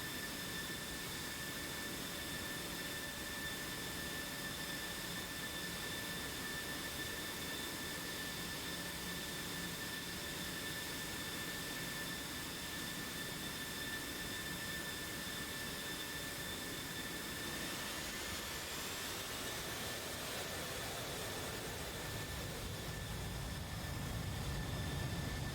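Steady, loud jet engine roar from aircraft in the DCS flight simulator during a takeoff from Gori, with a constant whine throughout and a broadening rush near the end as the engines spool up.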